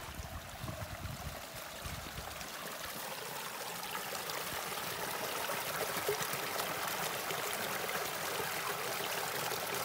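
A monsoon stream runs near a waterfall beside a footpath at Masura in Malvan, a steady, full rush of flowing water that stays constant and close throughout, with no voices.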